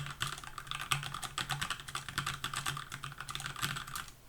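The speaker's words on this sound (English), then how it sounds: "so let me just type whatever in here." Rapid typing on a computer keyboard, close and steady, with dense irregular key clicks running throughout and no voices.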